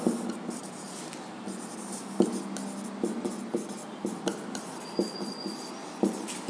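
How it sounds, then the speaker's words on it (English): A pen drawing lines on graph paper, soft scratchy strokes with light taps at intervals, close and quiet with no talking. "we have drawn two lines on the graph paper"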